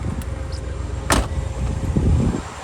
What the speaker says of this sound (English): open the window, which works beautifully